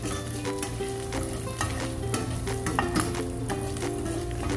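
Beef seasoned with pepper and salt fries in a pan for a creamy beef and mushroom dish, sizzling steadily up close as a spoon stirs it with repeated scrapes and light clinks.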